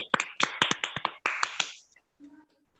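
At a Christian Christmas gathering, an audience gives a short burst of hand claps, about a dozen sharp, close claps in a quick uneven rhythm that stop abruptly, followed by a brief faint voice.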